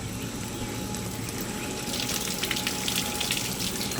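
Air bubbles rise and pop in water inside a leaking brass radiator from a 1964 Ford tractor, giving a steady close watery wash with a busier fizzing, bubbling patter in the second half and no talk.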